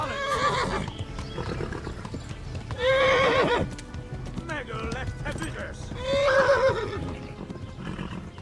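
Horse neighs and whinnies with clip-clopping hooves in the medieval game Kingdom Come: Deliverance, two loud whinny bursts rising over steady galloping hoofbeats and a busy, chaotic background.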